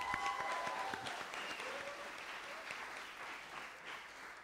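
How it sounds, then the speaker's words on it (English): An audience at a film festival awards gala applauds, a dense wash of many hands clapping that gradually fades in strength, heard from within the room. "Let's give that a round of applause."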